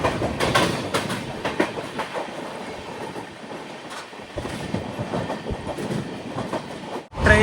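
A Garib Rath Express train speeds along at 130 km/h, producing a loud, steady rumble of wheels and rail clatter that continues throughout, with a brief dip and then a surge near the end.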